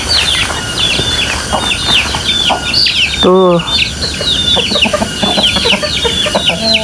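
Chickens cluck and call around a rural village yard beneath a mountain, with a rooster's crow-like call rising midway, scattered birdsong overhead and a brief spoken syllable, set against steady outdoor background noise.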